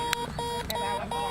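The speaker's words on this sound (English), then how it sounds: "the defense couldn't hear it, but it was beeping" Beeping ball in a beep baseball game, repeated electronic beeps pulsing at a steady rhythm amid crowd and field noise.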